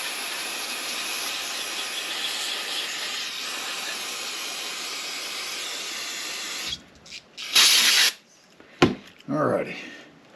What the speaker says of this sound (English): We'll get the compressor and blow clean all this up.